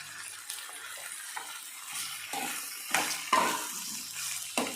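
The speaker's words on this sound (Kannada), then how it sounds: "ಸೊ ಈಗ ಇದನ್ನು ಒಂದು 5 ನಿಮಿಷ ಹುರ್ಕೋತೀನಿ ಚೆನ್ನಾಗೆ." Chopped bitter gourd (hagalkai) frying and being stirred in a pan on a high gas flame, a continuous close sizzle broken by periodic scraping stirs, with no talking.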